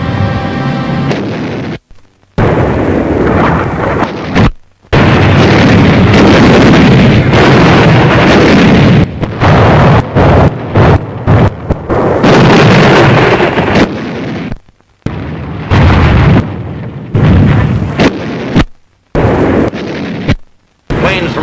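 Naval bombardment pounds Iwo Jima in 1945, with loud, heavy explosions and rumbling blasts coming in dense, overlapping bursts, broken by brief near-silent gaps, all rough and distorted as in old wartime footage.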